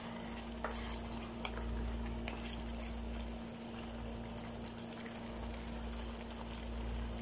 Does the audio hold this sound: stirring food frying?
yes